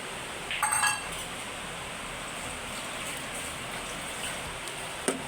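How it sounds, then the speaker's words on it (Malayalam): Steady rain falls outside a home kitchen where avial is being cooked, a soft continuous hiss filling the whole stretch, with a few bright clinks of utensils near the start and one sharp tap near the end. "ഇവിടെ നല്ല മഴയുണ്ട്."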